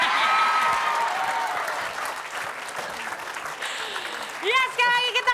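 Audience applause at an Indonesian comedy show, a dense steady clapping that thins out toward the end as voices and a brief cheer come through over it.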